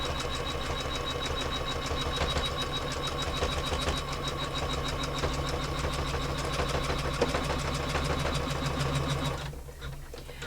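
An embroidery machine stitches an in-the-hoop small wallet, its rapid needle strikes forming a loud, fast, steady mechanical chatter that runs evenly before slowing and stopping near the end.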